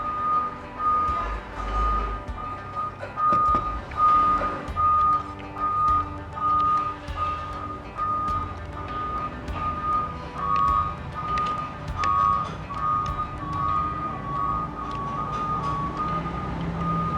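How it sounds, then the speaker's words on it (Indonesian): Reversing beeps from a noisy car or truck repeat steadily in a regular pulsing rhythm over a rumbling street background of traffic, moderately loud and continuing throughout. "Suara mobil berisik amat ya."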